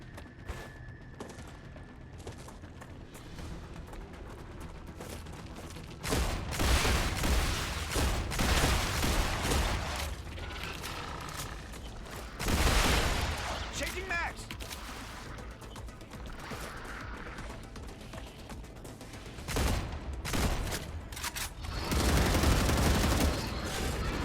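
Turrets firing piercing ammo in a factory-building game rattle off repeated bursts of gunfire, moderately loud and close, swelling and easing in waves over a low background hum, with no talk.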